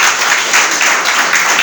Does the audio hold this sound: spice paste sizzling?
no